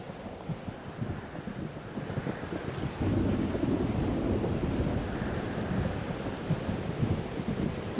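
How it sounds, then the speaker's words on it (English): A thunderstorm in the video game Life is Strange: Double Exposure, with dense rumbling wind and rolling thunder that swells slightly partway through, steady and loud throughout with no voices. "Weather's worse than I remember it. Storm followed me."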